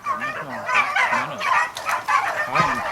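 Beagles trailing a rabbit on a hunt, giving several yelping, baying cries that rise and fall in pitch at moderate distance, with a person talking over them.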